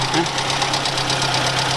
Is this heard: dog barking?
no